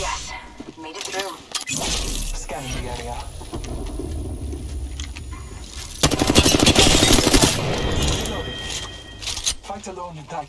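Gunfire fills an Apex Legends fight, with bursts of rapid shots and sharp impacts that grow dense and loud partway through, heard beneath and between voices speaking.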